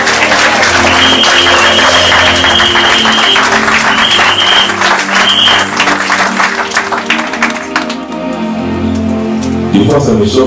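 Church congregation applauding during a ministerial consecration service, sustained clapping with crowd noise and music filling the space, loud and continuous, thinning slightly near the end.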